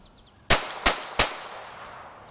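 A Kel-Tec P17 pistol fires Federal Auto Match ammunition: three sharp, close shots in quick succession, each ringing out briefly before the next, then a fading tail.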